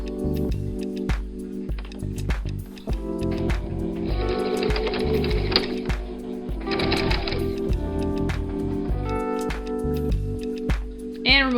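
A sewing machine runs in bursts of rapid stitching on a strapless dress with half sleeves, loud and close, stopping and restarting with brief pauses between runs.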